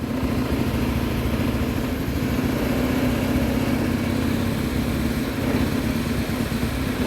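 A PGM-FI fuel-injected motorcycle engine idles with its speed raised to about 1700 RPM, a loud, even, close hum that holds steady throughout with no talk.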